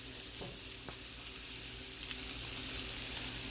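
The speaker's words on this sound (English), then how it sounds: "I'm going to start out by sauteing off the mushrooms" Button mushrooms sautéing in a little oil give a steady, close hiss of sizzling, with a couple of soft clicks from the pan and no talking.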